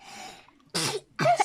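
A person sneezes indoors, two sharp bursts with a short gap between them after a softer breathy lead-in, close and loud.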